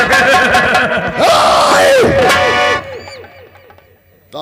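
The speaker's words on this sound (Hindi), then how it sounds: "बहुत जोर से हल्ला मचा के, हल्ला मचा के।" A crowd at a rural nautanki folk-theatre performance erupts in loud, overlapping shouts and yells for a couple of seconds, then the uproar drops away to a few trailing voices.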